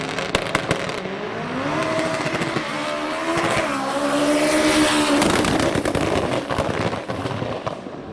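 An eight-second modified rear-wheel-drive street car roars hard down a drag strip, its loud engine note climbing steadily with popping, crackling exhaust bursts, close and continuous.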